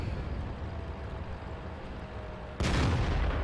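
The Tog heavy tank fires its main gun in the World of Tanks video game: a low engine rumble runs steadily, then one sudden loud cannon blast breaks in near the end and rolls on as a heavy roar.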